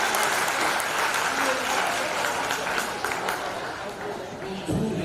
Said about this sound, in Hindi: एक जोरदार तालियां बजाइए हमारे भाई के लिए